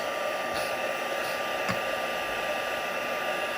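A heat tool blows a steady, loud hiss of air over the backs of inked card pieces for a craft card, holding constant throughout with no pauses.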